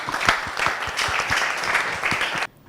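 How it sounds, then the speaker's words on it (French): An audience at a youth development talk breaks into steady applause, a dense patter of clapping that holds evenly for a couple of seconds before cutting off abruptly. "on l'acclame"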